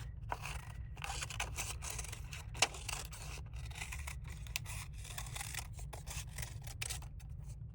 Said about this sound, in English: now that we made some circles, we're gonna cut our Frankenstein's eyes out